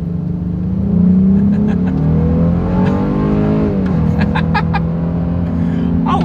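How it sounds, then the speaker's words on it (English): A 2025 Honda Ridgeline pickup accelerating hard from a standstill: the engine note climbs through rising harmonics, dips briefly at a gear change and pulls up again, loud and close from inside the cabin. "I do want to do an acceleration test, and let's see how quickly we can get this one here up to speed."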